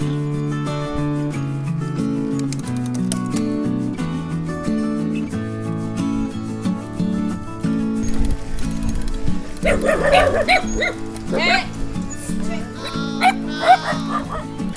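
Several dogs bark and yip repeatedly on a rural route in Mabini, Cebu, the barks close and loud, growing busier toward the end over steady background sound.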